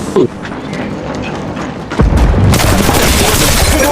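Gunfire erupts in Apex Legends Mobile: a sharp boom near the start, then a louder dense burst of rapid shots in the second half, close and harsh, with a faint background bed.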